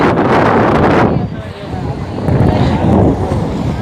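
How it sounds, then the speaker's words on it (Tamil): Strong wind buffets the microphone with a loud, steady roar aboard a boat at sea, carrying the rush of water and waves throughout. "காற்று செம்ம காற்று நல்லா வரோம்"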